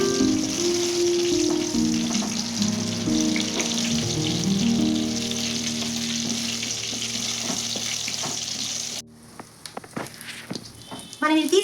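Peanuts sizzling and frying in a hot pan for gongura chutney, a steady close crackle with stirring clatter, a voice talking over it before the sizzle drops away near the end.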